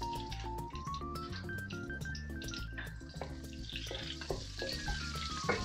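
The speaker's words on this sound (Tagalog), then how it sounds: "kapag mainit na yung wok natin o pan nyo, lagay na natin yung ating sibuyas" Onions frying in a hot wok over medium heat for pancit bihon, a steady sizzle with stirring and scraping clatter throughout, close and fairly loud, with music-like tones running over it.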